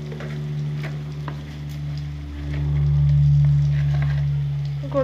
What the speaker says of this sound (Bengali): আমি ভালো করে কষে নেব